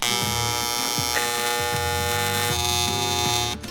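An outside seam on a metal part is welded, giving a steady, loud electric buzz with a strong mains-like hum that runs continuously, then drops off near the end.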